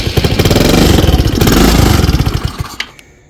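A Motobravo Roma 150cc scooter engine runs loud and close with a rough, pulsing putter, then sputters, slows and stalls into near silence.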